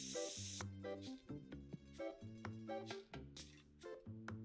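A spray can hisses in short bursts inside the TCG card shop simulator video game, with a loud spray at the start over steady, looping game music and notes.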